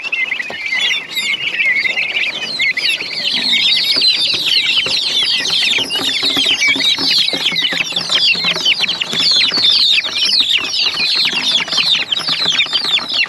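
A flock of turkey chicks on a farm peeping constantly, a dense, shrill chorus of overlapping chirps close by with faint rustling beneath, no voices.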